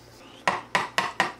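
Metal spoon clinking against a dish four times in a steady rhythm, close and crisp, with no talk, while a 1970s Hellmann's mayonnaise steak dip is prepared.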